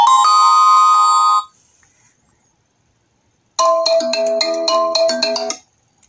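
Ringtone from a Lenovo K12 Pro smartphone played loud: a bright melodic phrase of about a second and a half, then silence, then a longer, fuller burst of tones for two seconds, close and clear with no talking.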